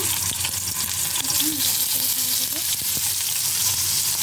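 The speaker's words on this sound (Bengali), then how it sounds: "ফ্রাই প্যানের তেলটা গরম হয়ে গেলে আমি মাংসগুলো ভেজে নেব" Broiler chicken meat sizzles and spits steadily in hot oil in a frying pan, a dense close crackle with occasional stirring scrapes throughout.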